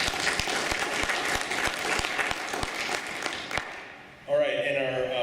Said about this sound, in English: let's have a round of applause for The Feather